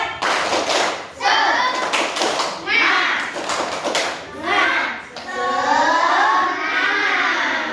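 Children in a classroom clap out the rhythmic 'tepuk semangat' chant, with sharp bursts of claps between their chanted voices, close and loud, in several quick phrases.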